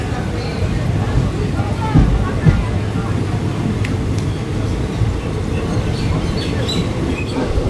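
The Bhagirathi Express pulling out of Berhampore Court station, a steady loud rumble of wheels and carriages with faint squeals and clicks, people talking over the noise.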